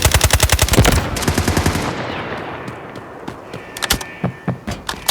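Gunfire in the video game Delta Force Mobile: a rapid automatic burst of loud close shots, then a pause and scattered single and short bursts of shots.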